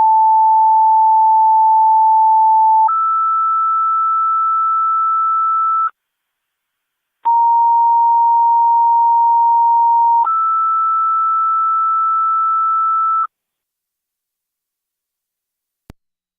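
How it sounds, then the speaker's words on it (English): Niagara County fire dispatch alert tones come over scanner radio. A steady low tone steps to a higher one, a brief silence follows, and the same two-tone pair repeats, ending with a short click. "This is your third set of tones."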